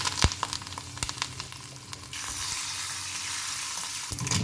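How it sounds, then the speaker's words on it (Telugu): A tempering of urad dal, cumin, mustard seeds, dried red chillies and curry leaves fries in hot oil, with scattered pops and clinks, then a steadier close sizzle. "తాలింపు వేసుకోవడం, మినప్పప్పు, జీలకర్ర, ఆవాలు, కొంచెం మెంతిపిండి, ఎండుమిర్చి, కరివేపాకు"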